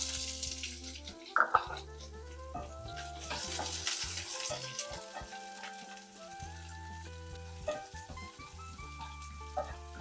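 Beans, carrot, coconut and onion stir-fried in a pan, a soft sizzle under scraping and clinking as the spoon stirs, with a steady low hum running throughout.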